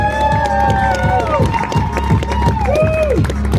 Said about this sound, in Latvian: Aplausi un gavilis Mārcim!